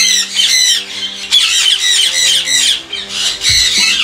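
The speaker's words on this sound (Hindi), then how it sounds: "सनकनोर का पीस है, इसका हमने पेयर बना के लगाया हुआ है" A breeding pair of sun conure parrots lets out loud, shrill squawks in repeated bursts, close and harsh, with no talking over them.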